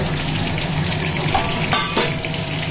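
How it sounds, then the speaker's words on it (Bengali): Katla fish head fries in hot oil in a home kitchen, a steady bubbling sizzle with a few brief sharp spatters and clinks partway through. "এই দেখো মাথাটা ভাজা হচ্ছে মাছের মাথা কাতলা মাছের মাথা"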